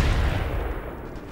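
Gunfire in the video game Mad Max, a dull booming shot with a heavy low rumble that fades over about a second, with no talking.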